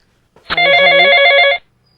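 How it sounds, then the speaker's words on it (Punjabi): A telephone bell ringing in a home, one loud, bright electronic ring lasting about a second before cutting off into quiet. "ਇਹ ਕਿਦਾ ਫੋਨ ਹੈ ਰਿੰਪੀ ਦਾ"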